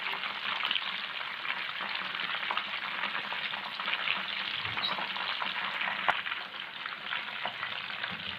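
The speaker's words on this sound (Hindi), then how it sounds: "ये इधर हमारे पास कच्ची पड़ी हुई है, ये इधर फ्राई हो रही है।" Crispy Lahori-style masala fish fingers frying in hot oil, a dense, continuous sizzling hiss close up with a faint clink near the end and no talk.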